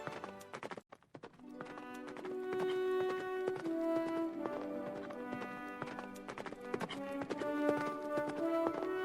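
A horse ridden by a prince toward a forest in an animated Hindi story trots along with a steady, even clip-clop of hooves over a backing of music.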